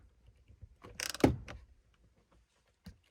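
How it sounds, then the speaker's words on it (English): A hand ratchet snugs a bolt on a Jeep while replacing the speed control switch, giving a close, brief burst of clicking pawl and metal mechanism, then near silence with one small knock near the end. "I'm just doing it with the head of the ratchet so it's not torqued down too much."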